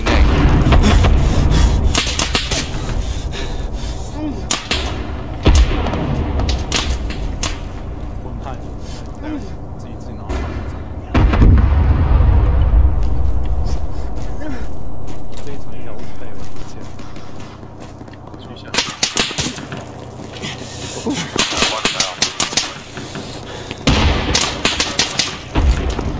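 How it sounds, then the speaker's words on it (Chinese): Gunfire and heavy booms fill a combat scene in the military game ArmA: loud, dense bursts with a quieter lull in the middle, and voices talking over much of it. "枪声来自东南侧树林内"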